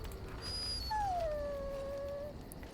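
A dog in the fantasy role-playing video game Dragon Age: Origins gives a single drawn-out whimpering whine that slides downward and fades, faint against a low background hum.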